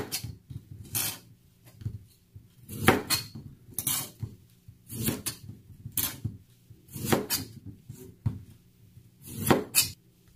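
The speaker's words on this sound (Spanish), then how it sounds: "Vamos a cortar el limón para sacarles el jugo" A knife cuts through lemons on a board for shrimp ceviche, with sharp, spaced knocks and clicks every second or so, some doubled, fairly close and quiet, and no voices.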